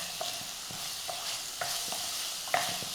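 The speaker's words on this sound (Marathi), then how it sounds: "आता यामध्ये घालू हिरवी मिरची आलं लसणाची पेस्ट टोमॅटो घालायचा आहे थोडंसं मीठ घालूया आणि टोमॅटो मऊ होईपर्यंत परतून घेऊ" Tomato, onion, green chili and ginger-garlic paste sauté in a pan with a steady soft sizzle, and a spoon scrapes and stirs against the metal at a few irregular moments, at close range with no talking.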